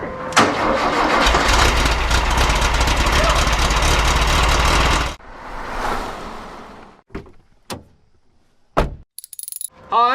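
VW Baja Bug air-cooled engine cranks and fires, running loud and steady for about five seconds before shutting off, followed by scattered clicks and short mechanical noises.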